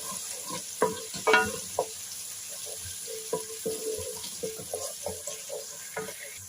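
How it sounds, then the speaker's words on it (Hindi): Ginger paste sautéing in a pan for a chickpea karhi, a soft steady sizzle under a series of light clinks and scraping stirs from a utensil, with no talk. "थोड़ा सा सौते करेंगे।"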